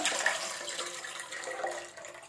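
Dissolved tamarind water pours into a pan, a steady broadband splashing stream heard close up and alone for about two seconds while frying chenai kizhangu (elephant yam).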